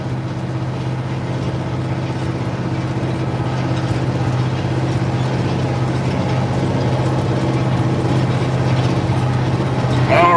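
An International 4786 tractor's diesel engine runs with a loud, close, steady drone that rises slightly in intensity toward the end.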